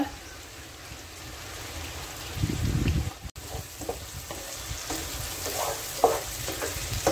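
Onions sautéing in oil in a pan for a shark fish gravy, a steady close sizzle with scattered stirring scrapes and clicks, briefly louder midway, with no talking.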